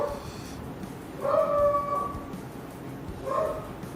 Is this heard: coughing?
no